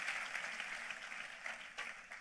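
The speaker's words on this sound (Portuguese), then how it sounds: "Vamos aplaudi-lo" A church congregation applauding, a dense steady patter of many hands clapping at moderate volume throughout, with no voices over it.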